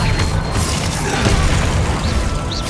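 An Expelliarmus spell goes off in Hogwarts Legacy as a loud, dense magical burst with a booming rumble that fills the whole short moment without letting up.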